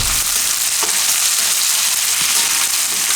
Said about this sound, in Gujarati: હાલો હવે આમાં આપણે નાખી દઉં આદુ મરચાં અને લસણ થોડીક વાર ફેરવી લેવાનું